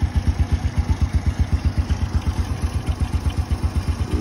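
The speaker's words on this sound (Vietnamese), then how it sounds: "Máy nổ rất là im, cái tiếng này là tiếng hút của lọc gió nhé" An original motorcycle engine idles steadily and quietly, its even, rapid pulsing thump mixed with the sucking draw of the air filter intake, close up and alone.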